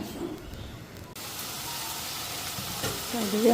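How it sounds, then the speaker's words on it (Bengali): Spices frying in a pan, a steady hissing sizzle that starts abruptly and continues up close, with faint stirring and brief voices toward the end. "মশলাও ভাজা হয়ে গেছে"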